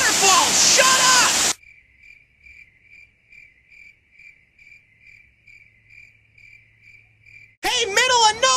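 Countryside crickets trill in a regular, repeating pulse between bursts of loud voice and noise at the start and finish, the insect chirping alone and clear in the quiet middle.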